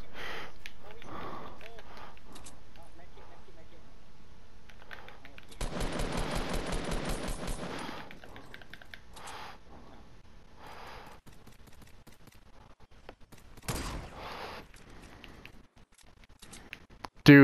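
Rapid bursts of gunfire from the video game Fortnite, one dense automatic volley in the middle and a few sharper single shots later, loud and close, mixed with excited voices.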